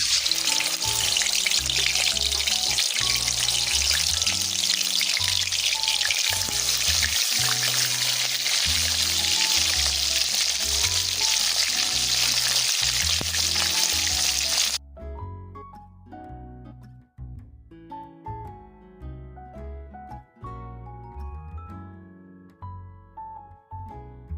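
Pieces of bata fish fry in hot oil with a loud, dense, close sizzle that runs steadily, then cuts off abruptly and gives way to quieter tonal sounds.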